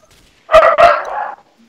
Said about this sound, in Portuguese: manda o cachorro cala a boca